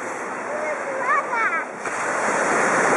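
Ocean waves break and wash up a shore in a steady loud roar of surf, with a brief voice rising over the noise in the middle before the rushing water swells again.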